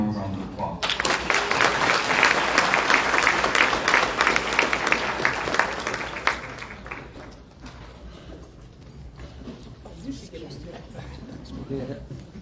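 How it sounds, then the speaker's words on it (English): Applause from the audience at a diversity and inclusion awards ceremony, a full, steady round of clapping that swells for several seconds and then drops off abruptly, leaving quieter room noise with faint voices. "let's give her another round of applause"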